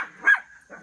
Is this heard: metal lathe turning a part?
no